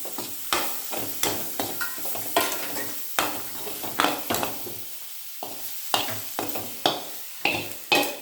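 Drumstick leaves stir-fried in a hot pan for a chutney, giving a close, continuous sizzle broken by a regular rhythm of sharp spatula scrapes and taps against the metal, with no talking.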